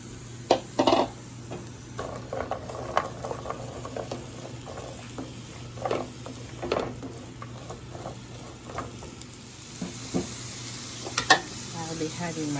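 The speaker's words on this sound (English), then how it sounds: "I'm going to be adding 1 tablespoon of olive oil. Then I'm going to add my mixed vegetables." Mixed vegetables sizzle in a pan of hot olive oil, a steady crackling hiss broken by sharp scrapes and clatters of stirring, with a low hum in the background and a voice speaking intermittently.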